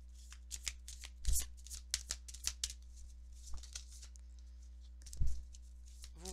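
Oracle cards being shuffled by hand up close, with several sharp riffling bursts and softer card slides in between, no voices.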